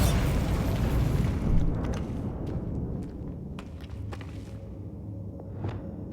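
Bombarda blasting spell explodes in Hogwarts Legacy: a heavy, rumbling boom swells in the opening second and a half, then fades into a quieter low rumble scattered with faint crackles and small debris taps.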